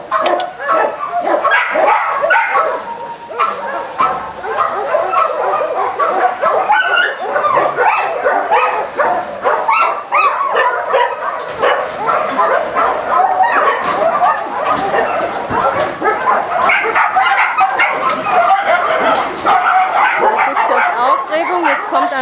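Many dogs at a shelter bark, yip and whimper at once in a dense, continuous, loud chorus of overlapping calls, with some speech mixed in.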